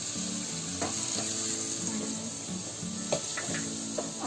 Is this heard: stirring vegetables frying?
yes